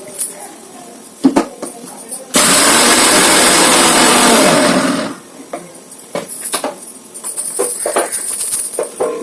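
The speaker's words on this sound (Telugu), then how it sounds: "ఇప్పుడైతే మిక్సీ పట్టేసుకుందాం." A kitchen mixer grinder roars loudly for about three seconds in one burst, then winds down, with someone talking before and after.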